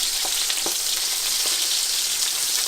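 Fish fillets sizzle steadily in a pan while being flipped with two spatulas, with a few soft scraping taps against the pan over the continuous hiss.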